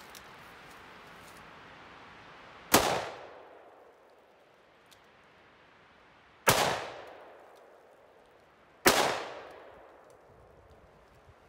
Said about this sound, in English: we're just gonna shoot the block with 410